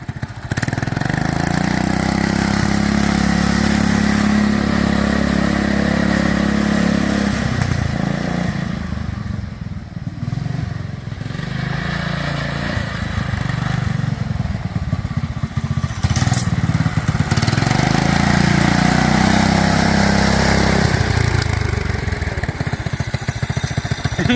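A John Deere 110 lawn tractor fitted with a Predator 212 engine drives past with a loud, steady single-cylinder drone that dips briefly mid-run before picking back up, nearby and unbroken, with no talk.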